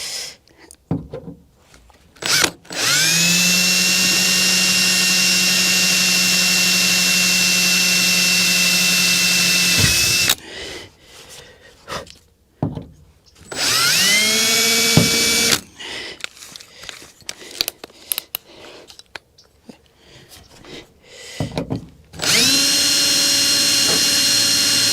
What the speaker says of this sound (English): got both those drilled out